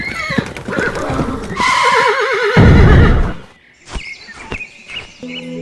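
A horse that has been ridden all day and night gives a loud, wavering whinny amid busy sound effects, then quieter hoof clops and chirping follow.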